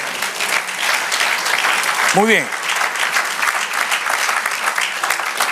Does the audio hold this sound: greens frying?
no